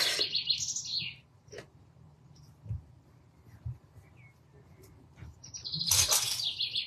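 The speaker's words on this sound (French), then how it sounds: "Les oiseaux sont en forme ce soir." Evening birdsong outdoors: bright high chirps and trills in two bursts, one at the start and a louder one near the end, with quiet low background and faint scattered knocks between, no voices.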